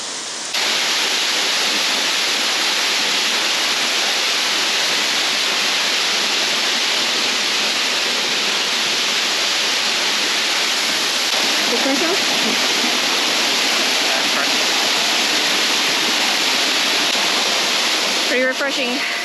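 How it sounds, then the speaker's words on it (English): A waterfall near a clear pond in the Kep and Kampot area of Cambodia roars as a loud, steady wash of falling water, continuous and close for the whole stretch. "Oh, I can see the waterfall."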